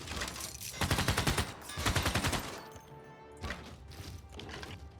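Gunfire from attacking units in Civilization VI comes as rapid machine-gun-like volleys, two dense loud bursts followed by quieter scattered shots and clanks, with no talk over them.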